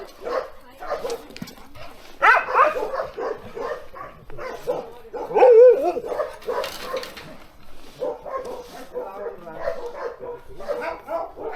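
A pack of dogs barks, yips and whimpers in overlapping bursts close by, with a few louder outbursts, while people talk over the commotion.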